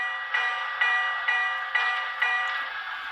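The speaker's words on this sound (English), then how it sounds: "Let's listen to the bell." Bell of an HO scale Broadway Limited T1 Berkshire steam locomotive with Paragon 4 DCC sound, five evenly spaced rings about half a second apart, each decaying into a steady metallic ring, clear and alone.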